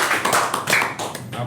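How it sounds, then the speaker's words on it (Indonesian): Applause from a seated audience at a Jakarta sports talk event, a short burst of loud, close clapping that lasts a second or so. "Jadi kita beri aplaus dulu."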